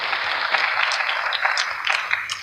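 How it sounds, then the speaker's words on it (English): Audience applause fills a welcoming-speech event, a steady dense patter of many hands clapping, fairly close and continuous, with no voices over it. "You really do deserve to give yourself applause"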